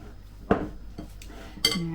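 A spoon knocks against a mixing bowl while Biscoff cheesecake mixture is folded, giving two sharp clinks about a second apart, then a brighter clatter with a ringing tone. The sounds are close and fairly loud against a quiet room.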